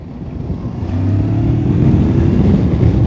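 A Voge 525 DSX motorcycle accelerates in eco mode, a loud, close engine drone that swells after a brief moment and holds a rising, rumbling note to the end.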